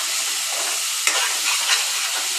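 Chicken pieces drop into a hot pan of oil with onion, ginger and chili, giving a steady close frying hiss with a brief crackle as the meat lands and sizzling continuing alone.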